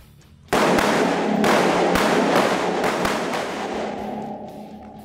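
Rifle shots from several shooters firing at a barricade during a training drill, a sharp burst of overlapping cracks starting after a brief quiet and continuing as dense rapid firing throughout, loud and close.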